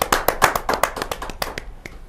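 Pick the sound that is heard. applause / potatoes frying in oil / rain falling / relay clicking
applause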